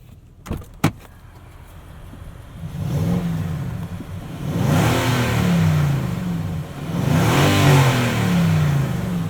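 A 2020 Nissan Titan Pro-4X Crew Cab's 5.6-liter V8 revving, preceded by a couple of sharp clicks, then deep engine roars swelling and falling in repeated revs, close and loud, with no talk.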